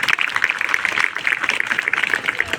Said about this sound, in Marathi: टाळ्या होते त्यासाठी